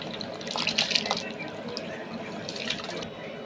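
Rice poured gently into hot cooking water at an outdoor picnic, giving a steady watery splashing and trickling with brief brighter splashes, close and moderately loud, with faint voices in the background.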